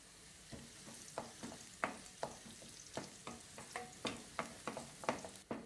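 Onions and carrot frying in a pan, with a steady sizzle and repeated sharp clinks and scrapes of a spatula stirring at an even rhythm, close by, with no voices.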